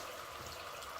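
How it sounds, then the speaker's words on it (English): Boiled water trickles into a cooking pot of samp and chicken being braised, a soft, faint, continuous pour lasting about a second. "I'm going to add a bit of boiled water to this just for it to cook a bit."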